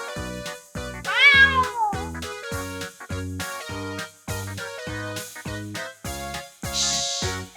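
Cat meowing with a long rising-and-falling meow near the start, then a regular series of short repeated meows over a rhythmic musical beat.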